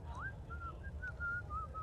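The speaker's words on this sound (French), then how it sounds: "Le sifflotement continue." A character whistles in a video game: short, gliding melodic notes in a quick, wavering sequence, quiet over a low, rumbling background.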